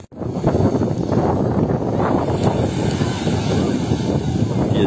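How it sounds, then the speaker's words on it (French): Strong wind buffeting the microphone outdoors on a holiday outing, a loud continuous roaring rumble that fills the whole clip after a brief quiet start, with faint voices underneath. "Il y a du vent quoi."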